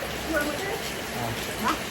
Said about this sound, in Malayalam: എന്ത് മഴയെന്നറിയാം